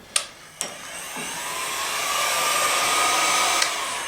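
A heat gun blows a steady stream of hot air over a brake tube for a light-aircraft brake installation, starting after a couple of sharp clicks and holding a constant whirring hiss close by.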